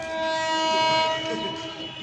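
An Intercity Superfast Express made up of old ICF coaches goes by at Brahmapur railway station, a sustained steady horn tone ringing over the rumble of the passing train, loud and near throughout.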